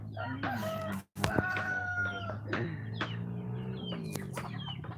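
A native chicken rooster crows in several drawn-out calls across a rural hillside farm, with clucking fowl nearby and a brief gap between calls, no talk.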